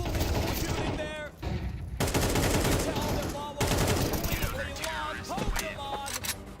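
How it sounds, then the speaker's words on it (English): Rapid gunfire bursts in a Valorant match at an esports grand final, loud and dense with repeated volleys, mixed with excited voices and crowd noise throughout. "Unbelievable shooting there."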